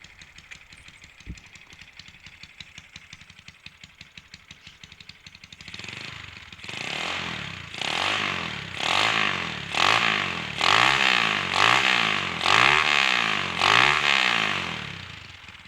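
A Honda Wave 125 motorcycle with a 56 mm bore and a stock-style carburetor clatters at a fast idle, then is revved repeatedly in close, loud surges that rise and fall in a steady rhythm.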